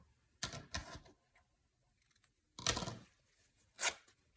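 Scissors cutting a paper strip for a journal spine reinforcement, giving a few short, close, crisp snips and rasps with quiet pauses between them, without talk.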